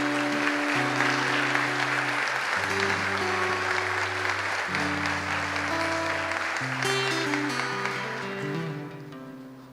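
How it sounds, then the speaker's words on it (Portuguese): A church congregation claps for the Lord in a steady broad wash, over prominent held keyboard chords that shift every couple of seconds, the whole sound thinning and fading toward the end. "aplaude ao Senhor, irmãos"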